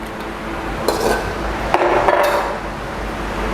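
Shrimp going into a pan of cooked pork for a spicy glass noodle salad, heard as a few sharp metallic clinks of utensils against the pan over a low background hum, with no talking.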